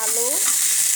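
Chopped potatoes fry in a pan, a bright steady sizzle with a brief stirring scrape at the start, close and loud for a moment.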